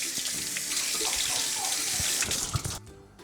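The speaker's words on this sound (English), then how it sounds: "So really quickly, wash your hands" Steady tap water runs from a faucet as hands are washed beneath it at a kitchen sink while muffins are being baked; a close, continuous rushing splash that cuts off abruptly near the end.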